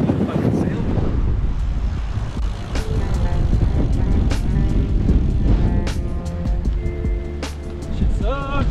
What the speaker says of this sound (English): it is, as you can tell, pretty windy today